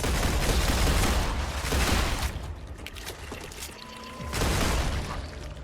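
Assault rifle fire in the video game StarRupture comes in dense, loud bursts: a long rattling volley, a short pause, another volley, a quieter gap, then a final sustained burst. No one talks.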